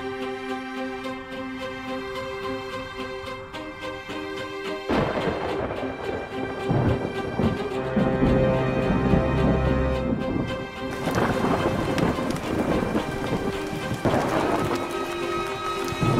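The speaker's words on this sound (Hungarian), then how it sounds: "A vihar egyre csak erősödik." A sudden thunderstorm with heavy rain breaks over a dense forest: loud, close thunder crashes and rumbles burst in at intervals over a steady wash of noise and a sustained tonal backing, with no talking.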